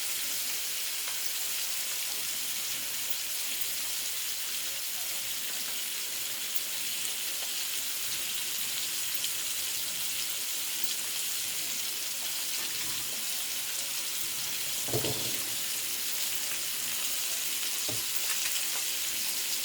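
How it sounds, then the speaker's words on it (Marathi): Fish coated in masala frying in a pan, a steady dense sizzle close up that runs throughout, with a couple of brief knocks or stirs near the end and no talking. "गॅस आता थोडा फास्ट करायचा आहे आणि मच्छी एका साईडला एकदम कडक होईल तिथपर्यंत ठेवायचं आहे"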